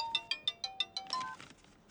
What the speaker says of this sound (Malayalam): ഫോൺ റിംഗ് അടിക്കുന്നു സാറേ.